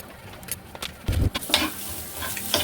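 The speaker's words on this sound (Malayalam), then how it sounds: "തേങ്ങ ഒന്ന് വറുത്ത് കിട്ടട്ടെ" Utensil scraping and stirring as coconut roasts in a pan, with a light, intermittent sizzle, close by and brief.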